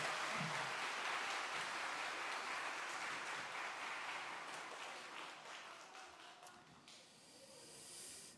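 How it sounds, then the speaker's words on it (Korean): Church congregation clapping for its teachers, a faint, distant wash of applause that sounds soft and hissy, slowly dying away before a brief swell at the very end. "우리 박수로 크게 부탁드리겠습니다"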